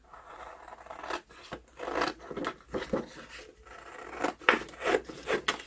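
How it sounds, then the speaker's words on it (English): Scissors snip through a paper banner in a quick series of short, close, crisp cuts with brief pauses between them, each stroke a dry rasping slice. "What I could do is I could just cut a banner of this."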